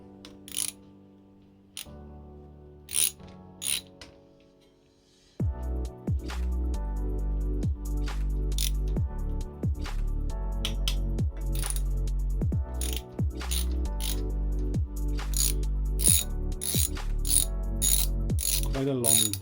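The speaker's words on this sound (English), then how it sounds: "a bolt nut that we undo, and then this comes off then. So this is a 10" A ratchet clicks rapidly and steadily up close while undoing a 10 mm bolt on a pit bike cam cover, a long continuous run of dense metallic clicks following a quieter start with a few isolated taps.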